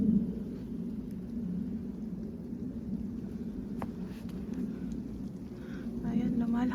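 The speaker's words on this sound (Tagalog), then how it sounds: "I don't know if you can see it because it's also raining." Rain mixed with falling snow outdoors in London makes a steady, soft hiss and patter throughout, with a faint murmur of a voice underneath.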